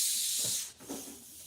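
An air compressor runs in a car-build workshop where a carbon fiber hood is being made, giving a steady loud broadband hiss that dips briefly midway, with no voices.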